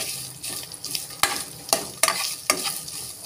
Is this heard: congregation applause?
no